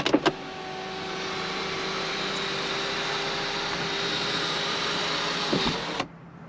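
A Mini Cooper S (F56) power window or sunroof motor runs steadily for about six seconds with a smooth electric whir, closing after a couple of faint clicks at the start and ending with a soft thud as it stops.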